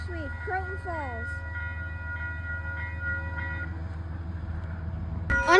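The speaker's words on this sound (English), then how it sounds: "Unexpected train, probably an Amtrak." A passing train, likely Amtrak, rumbles steadily nearby with a low continuous roar, a short horn sounding early, and the noise swelling loudly at the very end.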